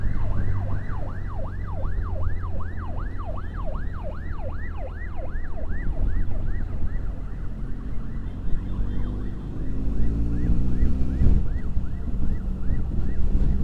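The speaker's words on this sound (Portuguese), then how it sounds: "Ambulância." An ambulance siren wails in rapid rising-and-falling sweeps, loud and close, over the steady rumble of traffic and a running engine, then shifts to a slower pattern as the vehicle passes.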